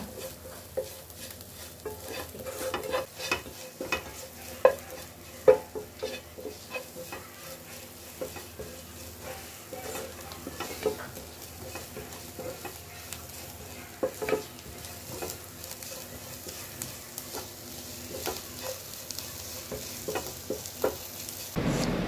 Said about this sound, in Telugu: కొద్దిగా పసుపు, కొంచెంగా ఉప్పు యాడ్ చేసుకొని ఫ్రై చేసుకోవాలి.